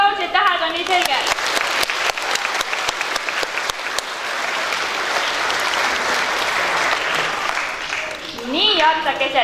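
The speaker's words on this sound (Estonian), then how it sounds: "Teeme suure aplausi, et tähed on nii selged." Big applause from a crowd at a school ceremony in Põlva, steady dense clapping filling several seconds, with a voice speaking over the start and end.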